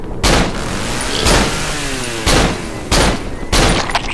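Gunfire in the horror video game Cry of Fear: five sharp, loud shots spaced about a second apart, each with a short ringing decay, heard alone without talk.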